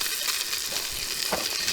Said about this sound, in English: Basically just frying to finish them.